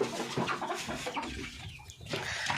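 A rooster on a poultry farm makes short, close clucking calls in a quick irregular series, with a brief quieter gap partway through.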